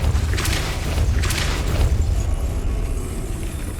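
A Depulso force spell cast in the Hogwarts Legacy video game: two quick bursting blasts in succession over a steady low rumble, fairly loud and close, with no talk.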